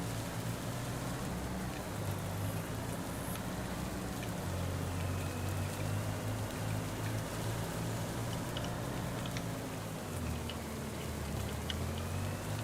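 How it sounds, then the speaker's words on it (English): Steady rain on a farm, a dense broadband hiss of drops falling continuously throughout, with a low engine-like rumble underneath and no speech. "And there is the rain."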